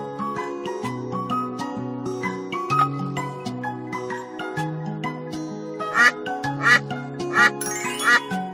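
Repeated duck quacks, loud and close, sound in short bursts over a busy backdrop of chiming toy music with jingling tones, and a few tightly spaced quacks come late in the sequence.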